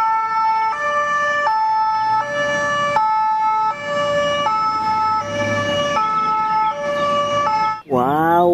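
A toy ambulance siren wails in a steady hi-lo alternation, loud and near, then cuts off into a short rising electronic sweep.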